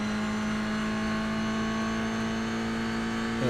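Race car engine in the sim racing game iRacing holds a steady, loud droning tone throughout, with sustained revving under constant load and a slight shift at the very end.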